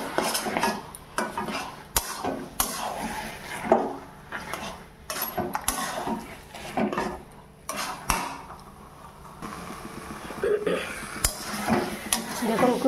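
A spoon mixing turmeric, cumin and chilli powder into taro greens in a bowl, with close, repeated scraping strokes and sharp clinks against the bowl in an irregular rhythm, and a voice talking at times over it.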